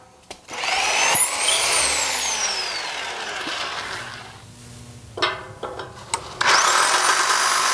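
A power drill bores anchor holes into the floor to secure an aquarium stand, with loud whining bursts near the start, a quieter stretch, then renewed sharp drilling and clatter toward the end.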